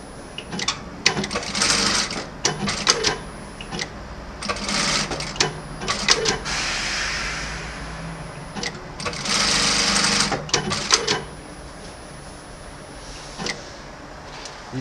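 An MS 9800-K electronic auto-trimming lockstitch sewing machine runs in loud bursts of rapid stitching, stopping and restarting several times with brief mechanical clicks between runs and quieter gaps near the end.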